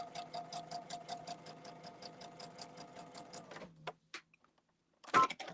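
A sewing machine stitches quilt blocks in a fast, steady run of needle strokes for about three and a half seconds, then stops, followed by a couple of faint clicks and a short burst of handling noise.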